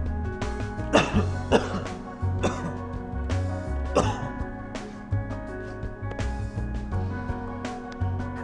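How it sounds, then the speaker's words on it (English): Several muffled coughs into hands burst out at intervals over a constant backdrop of background music, close and fairly loud. "Watch as our judges rate the following coughs."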